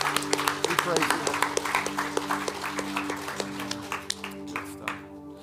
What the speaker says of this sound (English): Let's just clap to the Lord